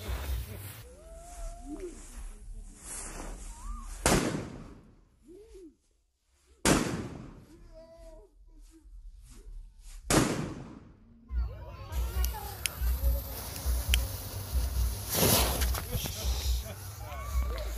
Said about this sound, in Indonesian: ini dia petasan disco,